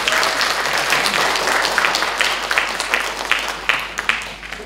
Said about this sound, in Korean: 여러분 박수 한번 보내주시죠.